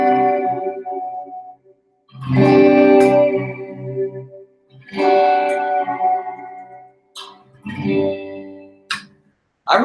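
Electric guitar through an amp set to a '65 spring reverb sounds as a few separate strummed chords and notes. Each rings out with a long, shimmering reverb tail, with brief gaps of near silence between phrases.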